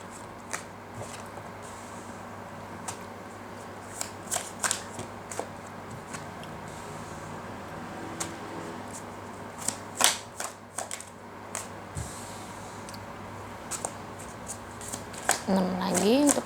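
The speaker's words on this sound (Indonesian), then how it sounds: "Oke, ini kartu pertamanya untuk Sagi." Tarot cards shuffled in repeated soft riffling bursts and taps, fairly close, with someone speaking over parts of it.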